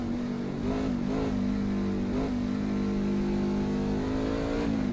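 A race truck engine in the iRacing Truck Series at Iowa drones loudly and steadily, with a few brief revving swells rising and falling over a constant throttle hum.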